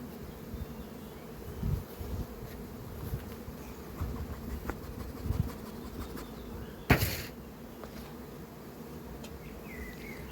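Honey bees buzz around a hive as a caged queen is placed into the main colony, a steady close drone of many insects with a sharp knock partway through.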